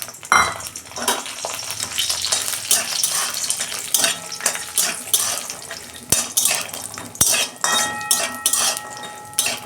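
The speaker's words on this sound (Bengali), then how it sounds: "তেল গরম হয়ে গেছে, এই যে আমি বড়িটা ভেজে নিচ্ছি" Bori lentil dumplings fry in hot oil in a wok, giving a steady close sizzle broken by frequent scraping stirs and sharp metallic clinks of a utensil against the pan.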